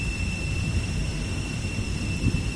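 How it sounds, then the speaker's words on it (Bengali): An airplane takes off, its engines giving a steady, heavy low rumble with a sustained high whine, heard from inside the cabin. "বিমানটি আস্তে আস্তে টেক অফ করছে।"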